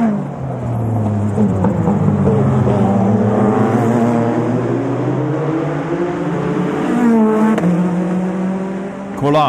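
Ferrari and McLaren GT1 race cars scream past at Le Mans in 1997, their engine notes rising and falling as several cars pass in succession, heard under a commentator's voice.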